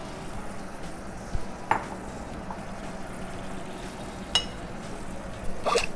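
Twenty-eight ounces of crushed tomatoes go into a pan over a white wine reduction for bucatini all'Amatriciana and get stirred, giving a steady low sizzle and bubbling with a few sharp utensil clinks against the pan.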